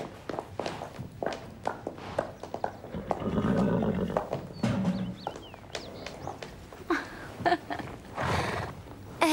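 A horse whinnies loudly and close by in the animated series Grand Galop, mixed with clip-clop hooves and footsteps, while several people talk in French over the scene.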